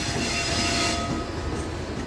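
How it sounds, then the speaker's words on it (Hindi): Porbandar-Muzaffarpur Express hauled by an Indian Railways Vadodara locomotive passing through Gorakhpur station, a loud, close, continuous roar of rolling stock with squealing wheels and a steady rumble, no voices. "और पोरबंदर मुजफ्फरपुर एक्सप्रेस है ये।"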